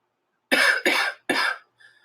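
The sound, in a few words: cough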